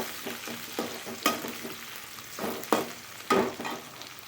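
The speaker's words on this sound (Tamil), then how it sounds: "வெங்காயத்தை இதில் சேர்த்துக்கலாம் வெங்காயம் கொஞ்சம் வதங்கட்டும்" Chopped onions fry in a pan under a quiet, steady sizzle. Several sharper scraping stir strokes recur irregularly, and no one speaks.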